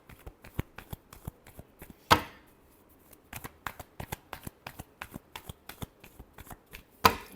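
Tarot cards are shuffled close up in a quick series of crisp riffles and taps, with two louder sharp bursts standing out among the softer repeated flicks.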